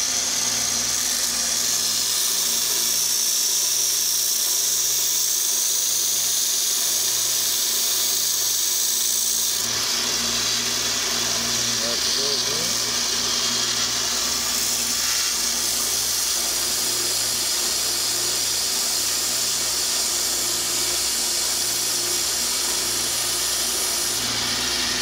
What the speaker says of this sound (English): so I'm gonna put it on my sander right here.